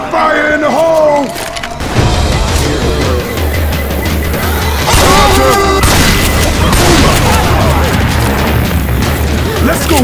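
A grenade explosion in the video game Left 4 Dead 2 booms out amid a dense, loud mix of gunfire, crashes and music, with voices shouting over the action.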